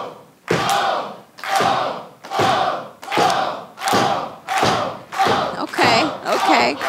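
A big wrestling crowd roars in rhythmic bursts, about eight loud chanted surges with short gaps between them, like an arena audience cheering in unison.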